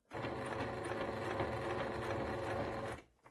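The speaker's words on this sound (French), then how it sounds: "je vais coudre 1 cm sur la couture précédente pour la solidifier" Sewing machine stitching about 1 cm back over an existing seam to reinforce it, a steady close mechanical whirr of rapid needle strokes for about three seconds before stopping.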